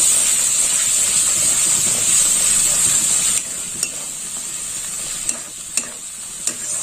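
Spice paste with a spoonful of sugar sizzles and hisses steadily as it is fried in oil, with a few soft scraping stirs; no one speaks.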